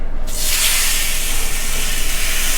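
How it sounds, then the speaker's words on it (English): Avocado oil sprayed from a can onto chicken thighs, one sustained loud hiss starting almost immediately and running close and steady to the end, with no voices. "I'm just gonna spray with some avocado oil"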